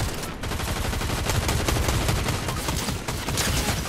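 Rapid bursts of gunfire in the video game Fortnite, dense and continuous like a fusillade, fairly loud with no talk over it.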